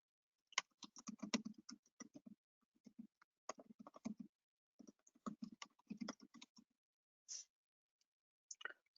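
Computer keyboard typing in close, quiet bursts of rapid keystrokes separated by brief pauses, with no talk.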